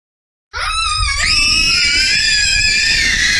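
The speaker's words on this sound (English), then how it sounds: "can you guys go ahead and just start screaming?" Children scream together loudly and continuously, starting abruptly from silence and holding a sustained, piercing high-pitched chorus at close range.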